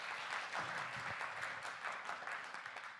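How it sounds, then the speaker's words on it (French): A concert audience at a big band show claps steadily in dense applause that stays fairly even and then fades slightly near the end, with no voices above it. "J'aimerais qu'on l'applaudisse bien fort."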